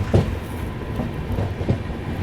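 A train departing on a diverging railway line at Bharatpur junction, heard as a low steady rumble with a few rhythmic wheel clacks at close range and no voices.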